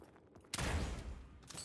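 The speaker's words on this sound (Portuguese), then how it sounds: "Eu dei um tiro pra assustar." A single gunshot fired to scare off wolves in an Xbox One video game, a sudden loud boom that rings out and slowly fades into a rumbling tail over about a second.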